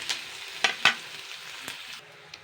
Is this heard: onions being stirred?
yes